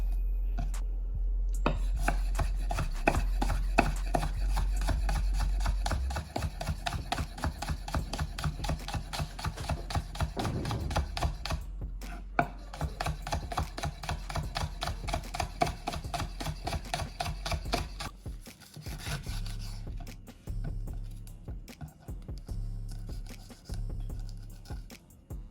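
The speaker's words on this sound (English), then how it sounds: "Now I will cut my green onions." A knife chops green onions on a board in a steady run of crisp, rapid cuts, loud and close, pausing briefly and then resuming, with no talking.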